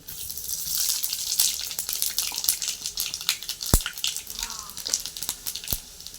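Dried chillies and panch phoron spices sizzling in hot oil in a home kitchen, a steady bright crackle with scattered sharp pops over a faint hiss.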